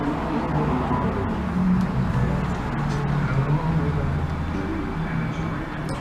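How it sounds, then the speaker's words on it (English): Cars drive by on a nearby road, a continuous low rumble and whoosh of passing traffic lasting throughout, steady and moderately loud. "Sorry, there's people driving by."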